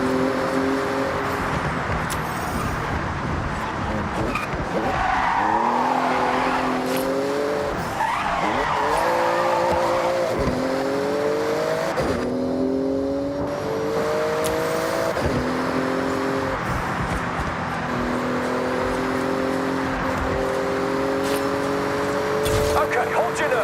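A Porsche races through a speed zone in the video game Forza Horizon 6, its engine roaring loud and constant as it shifts up through the gears, with tire squeal and skidding mixed in and voices talking over the whole run.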